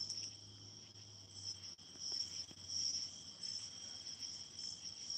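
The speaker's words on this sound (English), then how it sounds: "It's a cicada." A cicada buzzes in a backcountry setting, a steady high, thin drone that carries on without a break, faint and even, with a few small ticks and rustles underneath and no talking.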